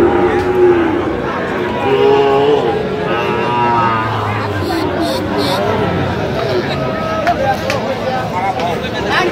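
Sahiwal bulls and heifer calves at a Faridpur cattle market, with a low, drawn-out moo rising briefly out of steady crowd chatter and nearby voices.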